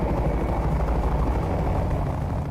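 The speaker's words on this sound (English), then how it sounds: "The helicopters fly low to avoid radar detection." A steady, loud, low rotor-and-engine roar from helicopters flying low fills the whole stretch without a break or any voices.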